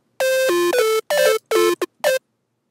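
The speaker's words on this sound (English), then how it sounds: "it's just a square wave with the pitch automated, the attack all the way up" Square-wave synth with automated pitch, attack fully up and decay shaped, plays a short run of bright buzzy tones in several bursts, each pitch gliding slightly, alone and clear.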